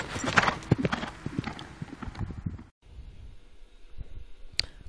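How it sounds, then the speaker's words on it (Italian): Racehorses' hooves clatter at a bareback village race in Monticiano, busy clip-clop thuds in the first half, then quieter scattered hoof sounds with a distant crowd murmur after a short gap. "I cavalli stanno entrando tra i canapi, sono Tristezza, Tiepolo, Sogni, Tottu Bellu"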